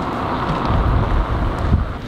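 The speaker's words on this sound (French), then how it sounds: "on sait qu'il y a du vent, il y a déjà un peu de vent." Wind blows across the microphone at the start of the Paris marathon, a steady rumbling buffet with gusty swells and no voices.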